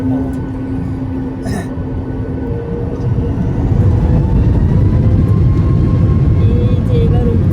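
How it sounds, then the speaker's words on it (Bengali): Airplane taking off on a runway, a loud continuous low engine roar that builds in strength midway, heard from inside the cabin with a brief voice sound early on. "এইবার টেক অফ হবে"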